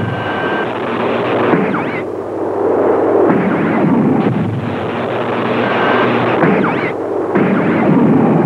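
Cartoon sound effect of defence rockets fired from a space station under attack in a Spanish-dubbed animated series: a loud, continuous roaring whoosh with blasting surges, sustained for several seconds.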